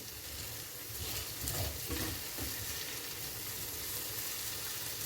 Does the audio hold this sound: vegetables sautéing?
yes